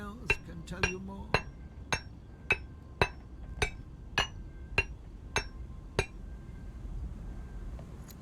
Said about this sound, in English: You can also fill out dents with that hammer.